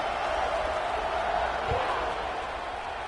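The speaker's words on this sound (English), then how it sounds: "this crowd is buzzing after that last score" A stadium crowd at a college football game against Clemson keeps up a loud, steady buzzing murmur after a score, filling the space evenly with a brief thump partway through.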